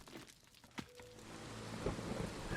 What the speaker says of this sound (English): Oh, we're in the storm season.